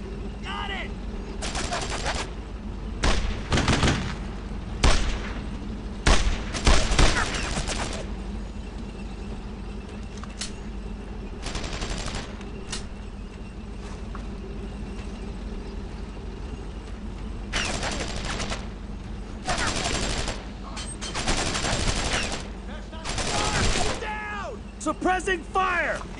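Heavy suppressive gunfire from a World War II battle in Brothers in Arms: Road to Hill 30. Repeated loud bursts and single shots ring out at irregular intervals, mixed with game noise and shouted voices.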